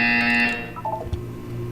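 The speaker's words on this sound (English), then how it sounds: "You will hear a buzzer. When you hear the buzzer, look down at the floor." A harsh electronic buzzer from the Portal 2 test chamber sounds loudly for about half a second, followed by quieter tonal game sounds and a low hum.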